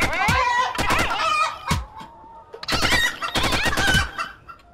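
Chickens cluck and squawk in quick bursts, with a rooster crowing among them, close and fairly loud, no talk; shot chickens in the video game Chicken Range.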